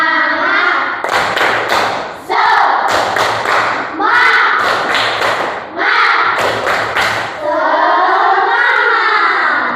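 A classroom of children performs a rhythmic 'tepuk semangat' cheer, loud patterned claps and thumps in bursts alternating with group chanting voices, close and energetic throughout.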